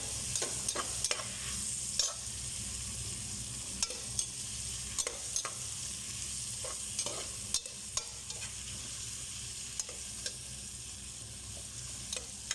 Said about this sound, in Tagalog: Haluin para masarap.